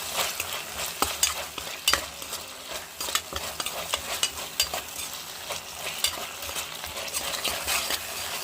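Ginger-garlic paste frying in a pan for fish pulusu, with a steady sizzle and repeated sharp scrapes and clinks of a spoon stirring against the metal pan, no talking.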